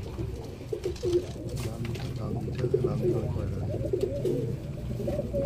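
Pigeons coo steadily inside a crowded loft full of birds kept for sale, a dense, continuous rumble of overlapping low calls close by throughout.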